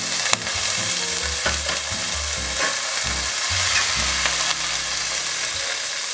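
Onions fry in hot oil with mustard seeds, cumin and curry leaves in a pan, giving a loud, steady close-up sizzle with occasional stirring scrapes and crackles, no talking.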